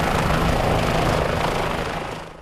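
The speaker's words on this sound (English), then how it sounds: "In March 2014, the Army bid farewell to the Kiowa Warrior helicopter, a workhorse of their air cavalry in Iraq and Afghanistan." A Kiowa Warrior military helicopter of the Army air cavalry flies close by, its loud, steady rotor and engine roar filling the air before easing off slightly at the end.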